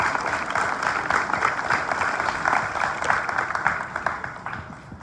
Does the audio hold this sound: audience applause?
yes